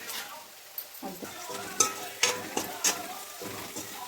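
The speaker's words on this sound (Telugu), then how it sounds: "ఇలాగా బ్రౌన్ కలర్ వచ్చేలాగా ఫ్రై చేయాలి" Food frying until browned in a pan while making a Telugu fish curry. A sizzling hiss is broken by repeated sharp scrapes and clinks of a utensil against the pan, close by.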